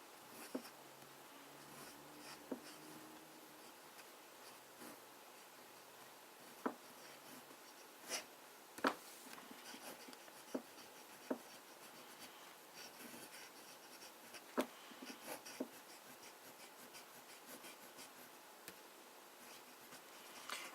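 Conway Stewart Edgcumbe flex-nib fountain pen writing on paper, a quiet steady scratch with faint ticks of the nib as strokes start and lift, close and soft against low room hiss.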